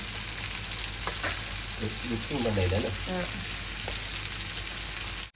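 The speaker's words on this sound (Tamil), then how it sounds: "இப்போ சீரகங்களை போட்டுட்டு" Cumin seeds and mustard seeds land in hot oil, a steady close sizzle with brief crackles, while a low voice murmurs faintly for a moment partway through.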